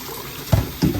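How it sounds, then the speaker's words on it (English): Water is poured out of a bowl after soaking a Rose of Jericho plant, heard as two short, close splashes into a sink, each a brief gush that quickly fades. "I'm gonna do is just pour out the water from before"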